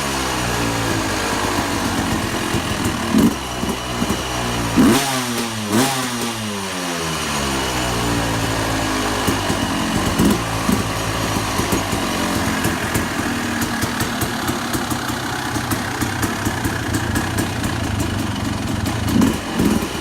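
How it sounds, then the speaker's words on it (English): A Yamaha YZ dirt bike with a new exhaust idles with a raspy, high-pitched buzz, punctuated by several sharp throttle blips and one long rev that climbs and falls, loud and close. "the next video you're going to see is the bike running and how the exhaust sounds on my bike"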